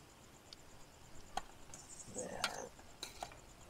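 Eggs in adobo are stirred in a pot at a family campsite, with a few faint scrapes and clinks of a utensil against the pot over a soft background of chirping crickets.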